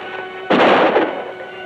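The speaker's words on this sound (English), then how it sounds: "I hear a gunshot." A single sharp gunshot fired as a signal cracks out loudly in open country, its report rolling and decaying over about a second against a quiet background hum.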